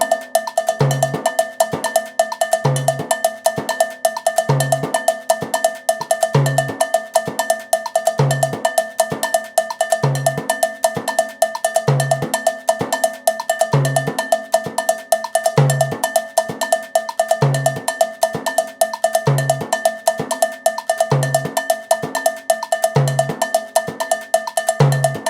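A New York style Mozambique pattern played on timbal and cowbell, with bright, loud cowbell strikes in a steady repeating syncopated rhythm over sharp drum hits, continuing without any talking.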